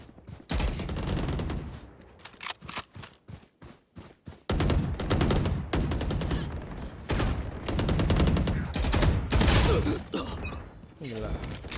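Gunfire in a Valorant match rattles in bursts and single shots, loud and close, with dense rapid volleys broken by short gaps; people talk over the shooting.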